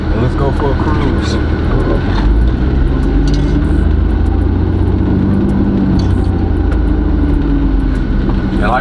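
A warmed-up daily-driver car rolls along the road with a loud, steady engine and tire rumble and constant road noise filling the cabin from start to finish.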